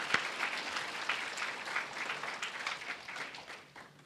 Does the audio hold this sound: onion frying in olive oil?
no